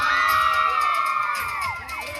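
Children at a school-level winter sports competition shout and cheer loudly in a crowd during a championship prize announcement, with high whoops and excited voices rising over each other in a brief, close burst.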